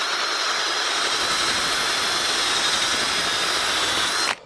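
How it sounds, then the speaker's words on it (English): A power drill fitted with a wire cup brush scrubs steadily at the metal of a 1980 Land Rover Series 3 109, a loud, continuous abrasive whir held at close range for over four seconds before cutting off abruptly. "let's get a drill"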